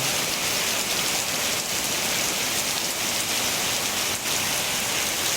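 Steady rain falls and patters on surfaces under a dark, overcast sky, forming a continuous dense hiss with no talk.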